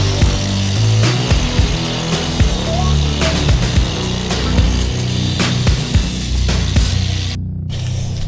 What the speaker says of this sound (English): we should definitely trim like maybe another quarter to a half an inch off the pipe that actually goes into the turbo